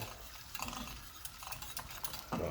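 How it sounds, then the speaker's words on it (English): Butter being whisked into a sauce in a pan, light scraping and clinking strokes in uneven bursts, close and fairly quiet, with no talk. "Slowly, slowly whisk it in."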